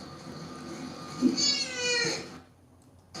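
A cat gives one long, drawn-out meow, close and clear, rising then falling, followed by a short quiet stretch.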